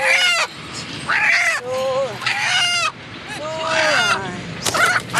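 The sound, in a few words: stressed feisty chicken squawking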